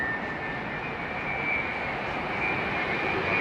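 A jet airliner roars low overhead on arrival to runway 27L at London Heathrow, a continuous loud broadband engine rush with a steady high whine, close and unbroken throughout.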